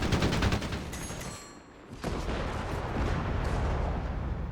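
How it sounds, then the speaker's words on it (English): Artillery fire from the strategy game Company of Heroes 3: a dense volley of rapid cracking shots, a brief lull, then a sharp impact and a rolling, rumbling barrage of distant blasts. The sound is faint overall. "Artillery called in as well here."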